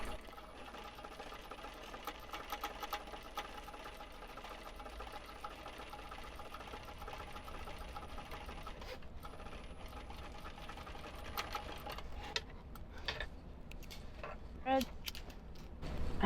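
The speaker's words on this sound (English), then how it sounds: "now I'm going to stitch it at 3/4 of an inch all the way around." Sewing machine stitching a fabric shoulder bag, a close, steady mechanical whir that runs continuously and then halts near the end, with a few clicks and handling noises after.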